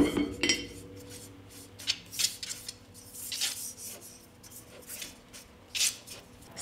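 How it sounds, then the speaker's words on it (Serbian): A frying pan is handled and greased with oil in a home kitchen, with repeated close metallic scrapes and rubbing strokes coming in irregular bursts over quiet background. "Sad će mi trebati jedan tiganj i njega ću podmazati sa uljem."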